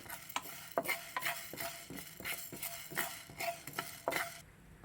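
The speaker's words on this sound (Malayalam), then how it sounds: "ആദ്യം ഇളക്കുന്നു. എണ്ണയൊന്നും ഒഴിക്കരുത്. പാനിനകത്ത് പാൻ ചൂടായി കഴിയുമ്പോൾ നേരിട്ടേ ഇടാവുള്ളൂ." Fenugreek seeds stirred and dry-roasted without oil in a hot pan while preparing Kerala-style fish pickle, a steady series of close, crisp scraping strokes with a light rattle of seeds and no talk.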